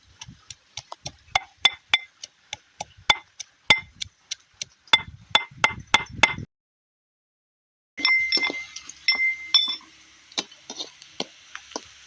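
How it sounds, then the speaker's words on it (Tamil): Ginger and garlic being pounded to crush them, a series of sharp, close knocks in irregular rhythm, then a short silence followed by more taps with ringing metallic overtones. "இஞ்சி பூண்டு நசிக்கலாம் இந்த மாதிரி நல்லா தட்டி போடுவோம்"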